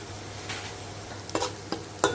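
Onions and cashews frying in a pan for a pumpkin seed curry, a soft steady sizzle with a few light scraping stirs and clinks near the end.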